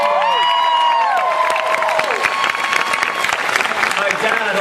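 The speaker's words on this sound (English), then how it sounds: "Give a round of applause for my dad." A large convention panel audience at San Diego Comic-Con bursts into loud, continuous applause and cheering, with whoops and crowd noise mixed into the clapping and voices rising over it.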